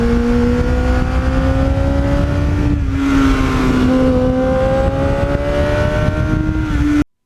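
A 1989 Kawasaki GPX750R motorcycle engine runs through a MUZZY muffler, loud and close, holding a steady rumbling drone that swells in a couple of revs and falls back, alone until it cuts off abruptly.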